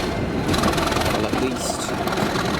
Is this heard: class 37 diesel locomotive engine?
yes